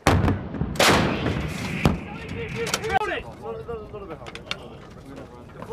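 An M777 155mm howitzer fires a booming shot early on, followed by a sharp crack and rumbling echo, with shouted crew commands over the blast.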